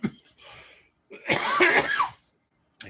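A single harsh cough, close and fairly loud, comes after a brief throat sound and is followed by silence.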